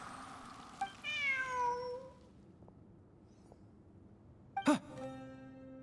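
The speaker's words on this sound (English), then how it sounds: "Look, a cat." A cat in the video game Genshin Impact gives a clear, gliding meow of about a second, then a fainter second call near the end over quiet game ambience, with no talking.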